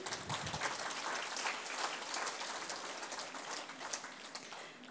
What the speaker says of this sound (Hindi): जोरदार ताली बजाएं